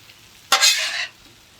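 Bacon and potatoes for a hearty breakfast get stirred on a Camp Chef griddle, giving a sudden burst of loud, bright sizzling that lasts about half a second, then quickly fades away.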